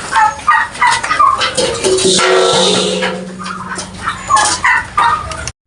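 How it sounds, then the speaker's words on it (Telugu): Several black and white turkeys gobble loudly nearby in rapid, overlapping bursts, with clucking fowl and ducks around them in a village. "ఇవి బ్లాక్ అండ్ వైట్ టర్కీ కోళ్ళు"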